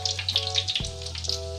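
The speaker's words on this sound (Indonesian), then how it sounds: "Kita coba goreng sampai benar-benar matang." Beef lung frying in hot oil, Padang style, with a steady close crackling sizzle and bright spitting pops throughout, alongside a low steady hum.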